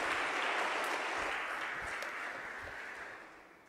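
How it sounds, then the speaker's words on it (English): A church congregation applauds during Mass, a dense, steady wash of clapping from many hands that slowly fades toward the end, with no voices over it. "Let's give them a round of applause."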